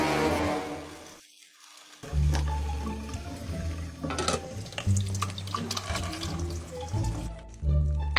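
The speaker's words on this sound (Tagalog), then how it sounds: "Naghuhugas po para di na kayo mapagod." Tap water runs and splashes into a sink while dishes are washed at home, close and fairly loud, with brief pauses as the flow stops and restarts.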